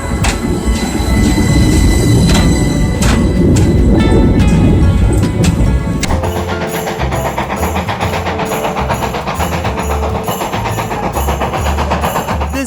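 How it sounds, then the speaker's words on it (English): A train decked out in Christmas lights rolls by loudly and close, wheels clattering in a steady rhythm with squealing metallic tones, the sound shifting partway as the cars pass. "This train was decked out in Christmas lights, making it look super magical as it rolled by."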